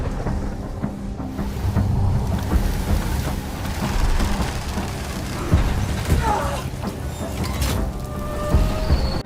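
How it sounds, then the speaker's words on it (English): A violent storm lashes the ship Lolus, with a continuous dense roar of rain and wind, low thundery rumbles and occasional creaks and thuds building and easing throughout. "A massive storm comes unexpectedly and hits the ship Lolus very hard."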